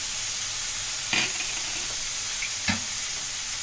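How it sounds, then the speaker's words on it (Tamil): Tomato and onion frying in a pan with turmeric for wheat rava upma give a steady, faint sizzling hiss throughout, broken by two brief scrapes of stirring. "இப்போ தக்காளி வெங்காயம் வதங்கட்டும் பார்க்கலாம்."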